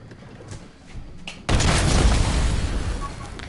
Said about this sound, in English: Just start launching cannons at them.